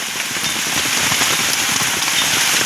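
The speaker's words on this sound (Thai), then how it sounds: "ฝนตกแห้งขนาดเลย" Heavy rain pouring down at night in a forest, a dense, loud, steady hiss of drops hitting surfaces with no break, close and alone.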